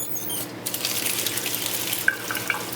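Water running from a tap fed by a home filtration system with three filters, a steady splashing stream into a sink with a few small clinks, close and clear, no talking.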